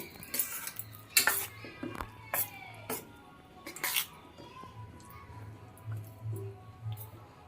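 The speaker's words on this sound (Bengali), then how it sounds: "অল্প অল্প করে জল দিয়ে চালের গুঁড়োটা সুন্দর করে মিশিয়ে ব্যাটার তৈরি করে নিচ্ছি" Rice flour batter is mixed with water in a bowl, with irregular light clinks and taps of a spoon against the bowl, close and fairly quiet.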